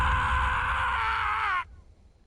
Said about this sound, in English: I scream, loudly enough to notice how pitiful I sound